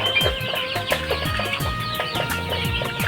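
Twenty-three-day-old layer chicks cluck and cheep continuously, with many overlapping short calls close by in a poultry shed.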